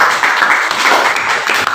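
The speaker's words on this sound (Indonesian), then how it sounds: "Tepuk tangan untuk kita semua." Applause from a class audience during a student group presentation, a steady dense wash of clapping lasting under two seconds.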